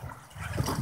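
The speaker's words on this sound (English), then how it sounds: "using the foot method to row the boat down the river here in Ninh" Short water splashes and gurgles as a boat is rowed with the feet on a river in Ninh Binh, Vietnam, close and moderately loud.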